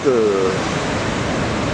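Broadband surf roar from waves breaking at a beach break on the Anglet coast in late July, a steady wash of noise that fills the short stretch, with a brief voice-like tonal trace near the start.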